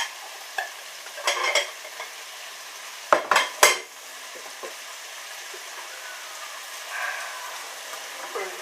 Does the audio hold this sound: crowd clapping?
no